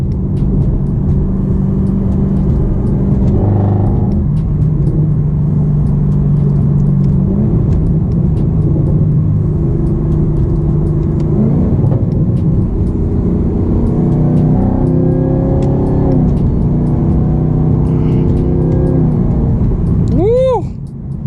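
A Chevrolet Camaro ZL1 1LE with the 10-speed transmission roars loudly and steadily from up close, its engine pitch climbing and falling through repeated revs and gear changes, ending in a sharp rising sweep.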